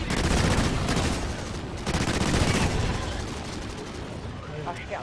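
Sustained heavy gunfire in the video game NightFall, a loud continuous barrage of rapid shots that gradually thins toward the end, with a voice faintly audible underneath.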